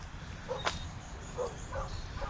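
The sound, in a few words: dog barking from the window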